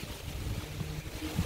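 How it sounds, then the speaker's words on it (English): Wind gusts on a cloudy, cool winter day in Melbourne, a brief steady rumble and buffeting with some wind noise hitting the microphone, heard alone. "Windy, windy, windy."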